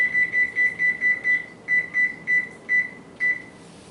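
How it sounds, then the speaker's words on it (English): Kitchen timer being set while biscuits bake in a 450-degree oven: a run of about twelve short, loud electronic beeps in a quick uneven rhythm, close by, with no talk. "Right, got my timer set"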